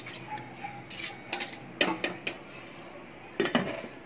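A spoon clinks and scrapes against a metal pot as garam masala is added and stirred into a coconut milk biryani base, in a few sharp, close knocks spread over a few seconds.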